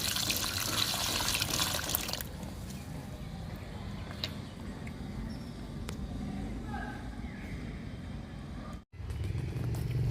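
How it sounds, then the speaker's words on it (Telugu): Liquid fertilizer pours onto a potted plant in a brief splashy burst at the start, followed by quieter trickling and faint handling noises. "లిక్విడ్ ఇస్తున్నాను"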